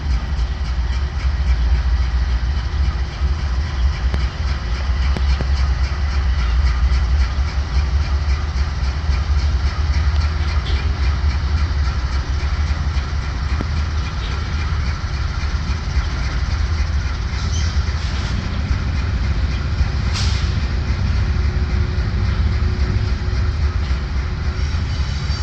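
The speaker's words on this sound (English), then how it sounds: "as soon as the three engines and the one car passed the backyard" A freight train of three locomotives and one car rolling past a backyard, a continuous heavy rumble with rail clatter and engine drone holding steady for the whole stretch, some faint sharp squeals near the end.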